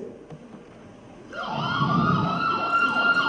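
An ambulance siren sounds during a school annual day play, rising in after a quiet start and then wailing steadily and loudly with swooping repeated tones over a low rumble.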